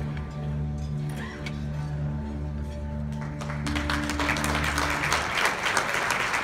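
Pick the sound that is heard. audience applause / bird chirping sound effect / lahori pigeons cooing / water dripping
audience applause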